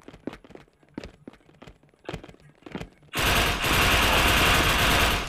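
Sharp single gunshots crack out at a steady, spaced rhythm in the Indonesian third-person shooter Wardeka, then give way to a sustained dense roar of rapid automatic fire.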